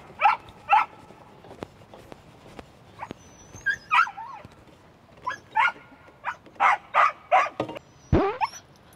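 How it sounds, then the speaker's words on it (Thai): A big black dog at a coastal campground barks and yips in a run of sharp, close calls, with whimpers between them and no talk. "เมื่อกี้ยังนั่งเห่าอยู่เลย"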